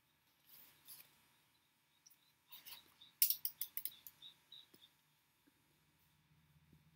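An X-Acto knife cuts through paper while making paper dolls, producing a handful of quiet, scattered scraping snips and clicks in an otherwise hushed room.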